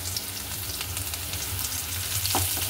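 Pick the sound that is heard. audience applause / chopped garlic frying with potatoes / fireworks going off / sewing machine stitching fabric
chopped garlic frying with potatoes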